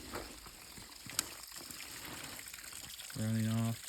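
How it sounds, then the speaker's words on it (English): A small waterfall runs off a natural spring, making a faint, steady trickling splash beneath someone talking. "Again, another waterfall here"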